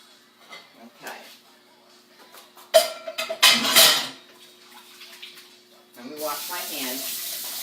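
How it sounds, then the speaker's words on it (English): Tap water running into a kitchen sink for handwashing, a steady close rush that starts late and continues to the end, after a stretch of talking and some clattering. "Wash my hands,"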